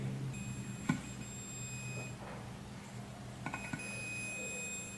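Multimeter continuity beeps while testing an electric kettle base connector: short, clear electronic tones that sound twice with a gap between, over faint low background hum and a few soft clicks.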